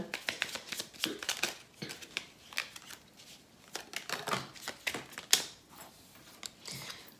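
Tarot cards get shuffled in bursts of crisp riffling and flicking, close by, with short pauses between handfuls and no talking.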